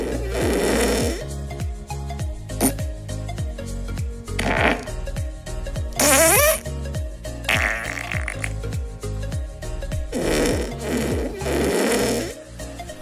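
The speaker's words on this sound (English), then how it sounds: "It's none other than a farting application that has a few buttons." Cartoonish fart sound effects from the Touch Fart app on a MacBook Pro Touch Bar play back to back, a loud rapid series of sputtering, squeaky and rumbling blasts of varying length, close and continuous.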